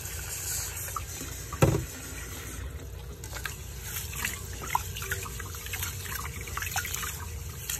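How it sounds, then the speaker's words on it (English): Rice is washed in water, with soft sloshing, trickling and dripping throughout, one sharper splash or knock early on, and faint clatter in a quiet room. "I need to wash three times, guys. 3 times of washing the rice."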